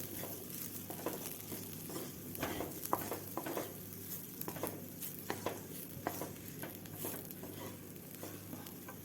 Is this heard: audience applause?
no